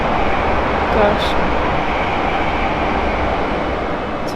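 Train passing through Farnborough (Main) station on the South West Main Line, a graffiti-covered train, giving a loud continuous rumble and rail roar throughout, close by, with brief voices over it.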